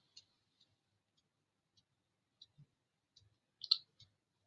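Sparse computer mouse clicks, a handful of faint, quiet ticks spaced irregularly, with one slightly louder double click near the end, in an otherwise silent room.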